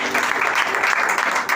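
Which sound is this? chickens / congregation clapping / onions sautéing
congregation clapping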